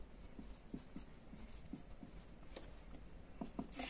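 Faint pen or pencil strokes on paper as the next step of a math solution for square roots of fractions is written out, soft scratchy taps in an irregular rhythm, close but quiet, without talking.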